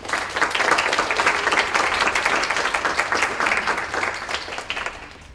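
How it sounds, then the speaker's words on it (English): Audience applause for a panel at a literary event celebrating Maya Angelou: dense, steady clapping from a full room that holds loud throughout and tapers slightly at the end. "Please give them a round of applause."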